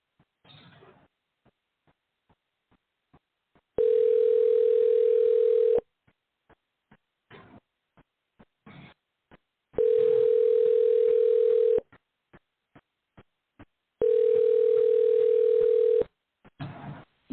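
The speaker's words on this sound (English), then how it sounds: "You're going to hear a phone dial." Three long steady telephone dial tones, each about two seconds, separated by quieter gaps with faint clicks and a brief rustle, while a call is being placed.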